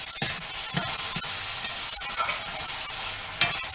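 Sofrito fries in a pan for vegan Cuban black beans and rice, giving a bright, steady sizzle close by, broken by a few sharp spatters and stirring knocks, with no voices.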